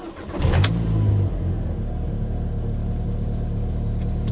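A car driving after a performance fuel pump install, with a deep engine rumble that swells with revving near the start, then settles into a steady loud drone as it cruises.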